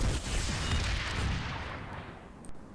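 Anti-tank grenades exploding against a Thunderer vehicle in the game Planetside 2, a dense, loud burst of booming blasts that fades gradually over a few seconds, with a sharp crack near the end.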